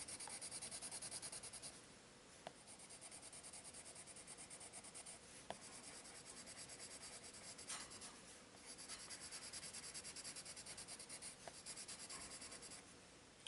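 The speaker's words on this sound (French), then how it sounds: "je vais venir avec mon crayon blanc" A white colored pencil rubs steadily across paper to blend coloring on a fairy picture, a continuous close scratchy drawing texture with brief pauses and a few small taps, no talking.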